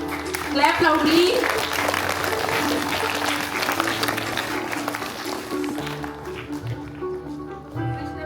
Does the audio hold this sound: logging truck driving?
no